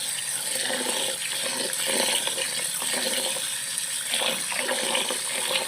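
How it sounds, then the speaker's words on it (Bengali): A kilo of rice is washed in a bowl of water, giving a continuous close swishing and sloshing that holds steady throughout, with no voices. "এবারে চালটা আমি ভালোভাবে ধুয়ে নেব"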